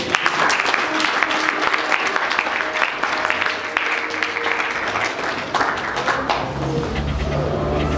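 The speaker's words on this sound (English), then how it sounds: "Clap for Jesus" A church congregation claps together in a dense, steady wash of applause at a prophetess's service, with a few birds cooing faintly behind it.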